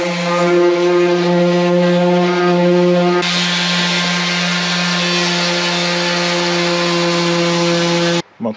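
A power sander works on a motorcycle visor with a loud, steady high whine and a strong buzzing hum, changing tone partway through, then cutting off abruptly near the end.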